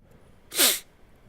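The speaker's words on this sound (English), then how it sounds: "Sorry, I had to sneeze." A single short sneeze bursts out sharply at close range against a quiet background.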